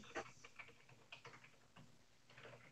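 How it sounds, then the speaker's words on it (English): Typing on a computer keyboard comes through as faint, irregular bursts of light key clicks, quiet and fairly close, with no speech over it. "I'm typing in the live chat right now."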